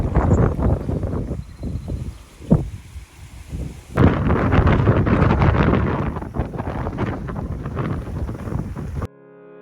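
Strong gusting wind roars and buffets the microphone, rising sharply partway through and staying loud and rough until it cuts off.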